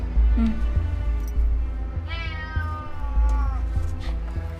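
A cat meows several times nearby, one long drawn-out cry in the middle, over a low steady hum.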